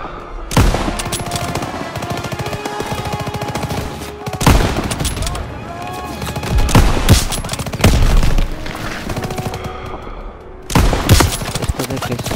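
WW2 battle gunfire in Call of Duty WW2 near a PaK 38 gun, sustained machine-gun fire and rifle shots with several louder booming blasts, close and continuous, with shouted voices now and then under the shooting.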